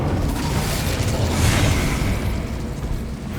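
Incendio fire spell cast in Hogwarts Legacy on PS5, a loud whooshing magical burst that swells around the middle of a dense, steady rumbling game soundscape with no talk.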